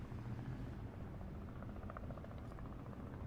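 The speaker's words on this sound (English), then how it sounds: "It's a helicopter. It keeps flying over the house." A helicopter flies over a house, producing a steady, fairly loud low rumble with a faint rotor throb that persists throughout, with no voices.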